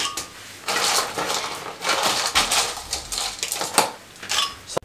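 Ice cubes dropped into a blender jar or glass for a milkshake, a series of loud hard clattering and clinking bursts close by, arriving in uneven clusters over several seconds.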